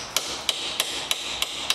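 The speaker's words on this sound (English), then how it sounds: "light taps with the hammer" Six light, evenly spaced hammer taps ring out over a constant background hiss, each a quick metallic tick, while removing the sump from a VW Golf 1.4.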